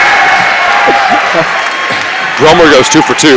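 Crowd at a high school basketball game, Labette County versus Pittsburg, cheering and clapping in the gym under a commentator's running play-by-play, swelling louder near the end.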